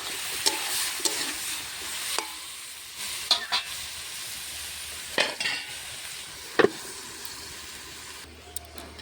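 Potato and soybean curry with Malabar spinach being stirred in a covered pot, a soft continuous sizzle under repeated scraping clinks of a spatula against the metal, spaced irregularly and fairly close.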